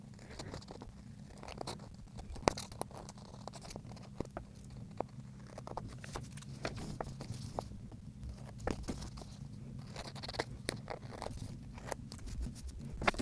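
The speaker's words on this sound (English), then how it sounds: "I'm just going to trim now around this edge again" Paper being trimmed around the edge of a handmade junk journal mini folio, with faint, quiet snips and crisp crunches repeating steadily in a soft, close-up working rhythm.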